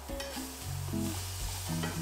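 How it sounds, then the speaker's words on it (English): A whisk scrapes and swirls through espagnole sauce thickening in a pan, with a soft sizzle beneath and short rhythmic strokes close by; no one speaks. "You don't want it to burn, so keep whisking."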